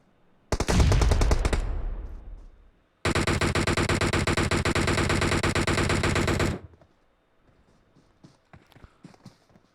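Gunfire in PUBG Mobile: a heavy burst of shots fading out, then a long sustained automatic volley of rapid, evenly spaced rounds that cuts off sharply, followed by faint scattered sounds.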